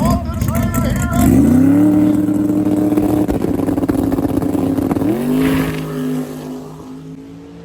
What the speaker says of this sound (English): And here we go in the nitrous car.